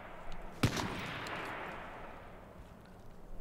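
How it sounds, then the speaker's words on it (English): A single sharp hunting-rifle shot cracks out at moderate distance in H1Z1 King of the Kill, then leaves a long rumbling tail over steady background ambience. "Is he shooting at me or?"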